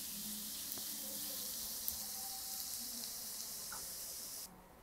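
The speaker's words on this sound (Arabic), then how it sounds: "منضيف عليها حصوص الثوم اللي دقيناهن. منقلبهم منيح مع بعضهم لحتى ياخد لون الثوم بشكل خفيف" Crushed garlic sizzles steadily in melted butter in a pan, a dense, close frying hiss that continues evenly with faint stirring sounds before cutting off abruptly near the end.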